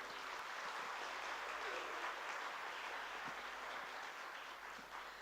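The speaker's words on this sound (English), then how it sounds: "I would say a wonderful round of applause to all the hard work by Dr. Prema and her team." A summit audience at a Civil 20 India 2023 valedictory session claps throughout: steady, even applause, faint and distant, with no voices over it.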